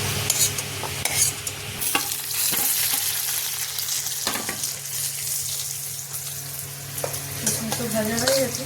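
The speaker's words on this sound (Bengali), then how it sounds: "কাজু ভেজে নেব," Cashews fry in ghee in a pan, giving a steady crackling sizzle broken by scrapes and knocks of a spoon stirring, close and fairly loud.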